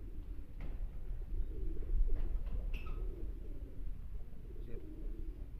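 Pigeons coo softly in a loft with a steady low rumble of background noise, a few faint chirps scattered through.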